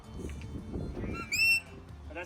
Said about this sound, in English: I'll be using this whistle here. So the whistle replicates the voice commands I just gave you